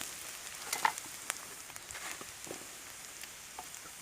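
Chillies and bird meat stir-fry in a hot pan, a faint, steady sizzle with a few soft scraping clicks near the start.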